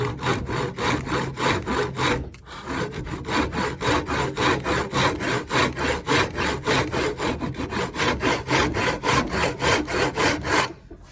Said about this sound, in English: I'm cutting away from the line because I'm going to use the chisel to pare down later